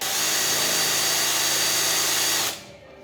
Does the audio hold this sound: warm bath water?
no